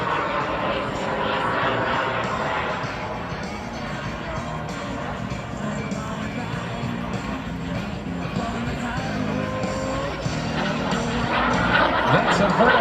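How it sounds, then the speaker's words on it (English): The world's smallest lightweight personal jet trailing smoke at an air show makes a steady, loud engine roar that holds throughout, with crowd noise and a commentator talking over it. "Smoke is on the world's smallest lightweight personal jet."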